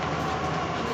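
A metro train arrives at a station in Delhi, a loud, steady rumble of wheels and carriages close by filling the short moment, with no speech.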